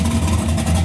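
A 1966 Chevy Nova with an 800 hp engine and Black Widow exhaust on racing headers rumbles loud and close, a deep pulsing low-end growl for under a second.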